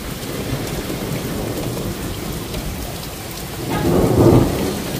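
Thunderstorm in Cheltenham, Gloucestershire, UK: steady heavy rain hissing on surfaces, then a deep roll of thunder swelling near the end and fading, no voices.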